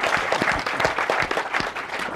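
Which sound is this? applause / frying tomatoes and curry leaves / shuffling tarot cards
applause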